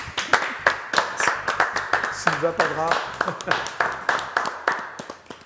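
A small audience claps for a singer in a live French TV studio, with uneven rhythmic clapping under someone talking who announces a name.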